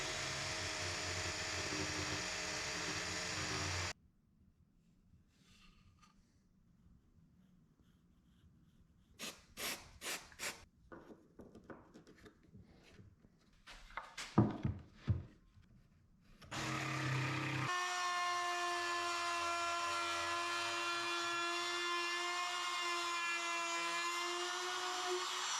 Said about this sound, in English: use a flush trim bit with the handheld router to make that corner radius